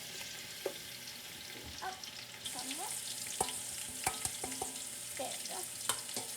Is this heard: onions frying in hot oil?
yes